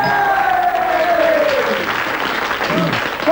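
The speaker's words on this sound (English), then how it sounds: "a roaring cheer from your friends there" A quiz show audience bursts into loud, sustained applause and cheering that fills the room, with a brief descending tone and some voices mixed underneath.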